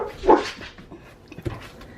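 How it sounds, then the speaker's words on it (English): Dogs bark at a homestead, one loud close bark followed by fainter scattered barks and yips, with quiet handling noises in between. "the dogs are barking"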